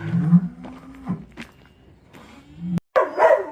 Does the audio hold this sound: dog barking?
yes